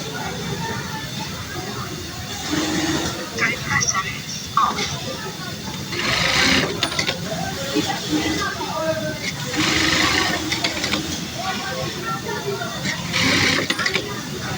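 A Juki DDL-8000A industrial sewing machine runs in bursts, a close, steady whirring hum that speeds and pauses repeatedly, with thread-trimmer clicks and someone speaking over parts of it.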